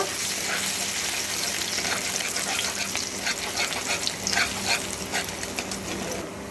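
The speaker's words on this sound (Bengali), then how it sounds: "আদা কুচি আদা রসুনটা একটু ভালো করে তেলের মধ্যে ভেজে নেব" Chopped ginger and garlic frying in hot oil for cabbage Manchurian, a steady close crackling sizzle with stirring clicks and scrapes throughout.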